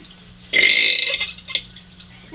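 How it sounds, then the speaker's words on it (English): A loud, drawn-out burp from a boy in a backyard burping contest, lasting about a second, followed by a shorter faint belch and some breathy noise. "That was your burp?"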